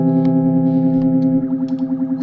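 A shovel played through guitar effects pedals with delay and flange gives a thick, droning harmonic tone that swirls and pulses, with a few sharp metallic taps on top, loud and sustained.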